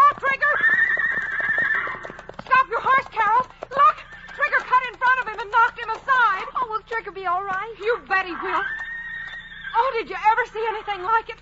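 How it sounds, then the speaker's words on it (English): A stallion guarding his mares gives loud, repeated shrill neighs and whinnies, broken into several rising and falling calls, with hooves clattering close by in a fast rhythm. "Only one animal in the world makes a sound like that. A stallion when he's protecting his band of mares."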